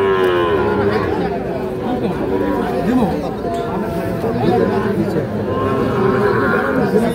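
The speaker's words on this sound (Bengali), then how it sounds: "এটা একটা শাহিওয়াল ষাঁড় বাছুর" A two-to-three-month-old Sahiwal bull calf lows among other cattle at the Ambari cattle market. Drawn-out moos rise over a constant crowd murmur, and people talk nearby.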